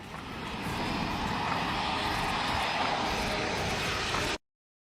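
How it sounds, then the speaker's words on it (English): A steady, loud roar like a jet engine fills the clip, constant and broad, then cuts off abruptly into silence. "You like how it sounds like a jet engine in the background?"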